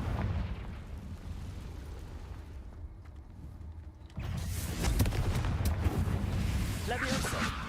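The Confringo fire spell bursts in Hogwarts Legacy: after a quieter stretch of ambient rumble, a sudden broad blast erupts and keeps roaring with crackling debris for several seconds.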